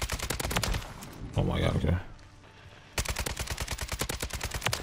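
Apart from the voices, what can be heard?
gunfire from a Kastov 762 in video game Call of Duty MW3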